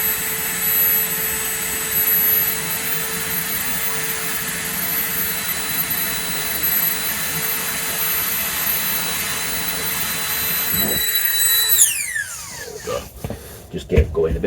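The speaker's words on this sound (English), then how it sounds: "this is the fan what I use just to get the fire going a bit." An electric fan blows air to get a fire going in an off-grid metal cabin in the woods, a loud, steady whirring roar with a tonal hum that cuts off near the end and spins down, followed by a few knocks.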